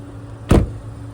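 Power liftgate on a 2025 Chevrolet Equinox LT shutting after a button press, a single solid thud of the hatch latching, close and brief against quiet background.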